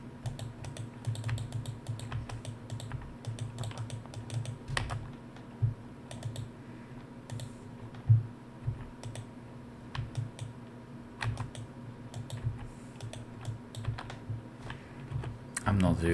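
Computer keyboard keys pressed during online gameplay, including repeated hotkey presses, with rapid irregular clicks and taps running throughout under a person talking.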